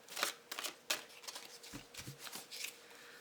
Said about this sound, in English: Just going to shuffle until it feels right.